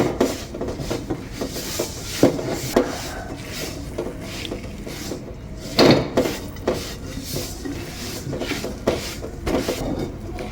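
Potato croquette dough is stirred and kneaded in a pan over low heat, with repeated scraping and knocking of a utensil against the pan. The sound is close, irregular and fairly loud, and no one speaks.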